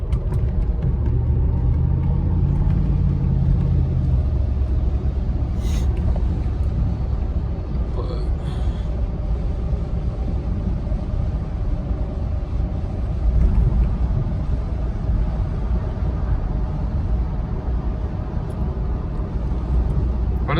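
A long-abandoned Mercedes SL500 on its first test drive, a steady low engine and road rumble throughout, fairly loud and continuous with slight swells, with someone talking over it.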